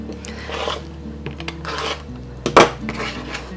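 A rotary cutter trims pieced quilt block units against a Tucker trimmer ruler on a cutting mat, with scraping rasps and a sharp clack of the ruler, close and fairly loud, no talking.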